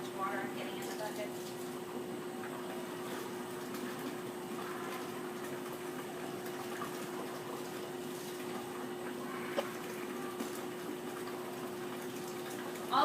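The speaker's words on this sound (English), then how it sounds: "when you're filling the bucket" Water from a tap pours into a mop bucket with a steady, even rushing hiss and a low constant hum, unbroken for the whole stretch.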